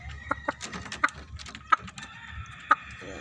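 Gamefowl at morning feeding time, including a six-month-old sparring rooster and a Sweater Dome, let out a handful of sharp, irregularly spaced clucks. The calls sound fairly close and stand above a steady low outdoor rumble, with no talking.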